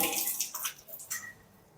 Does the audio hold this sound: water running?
yes